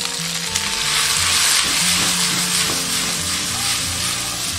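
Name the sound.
stir-frying onion and wood ear mushrooms in oil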